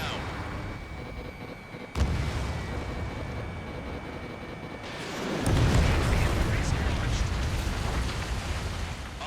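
Enemy bombers blowing up during an aerial combat mission in the jet fighter game Ace Combat 7, with loud rumbling blasts and sustained roaring explosions over constant engine noise, and radio chatter in the background.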